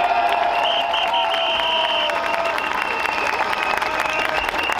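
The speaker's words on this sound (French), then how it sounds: "On peut les applaudir." A crowd at a protest claps for volunteers running food distribution stands, a steady wash of applause mixed with tonal background sounds and some voices.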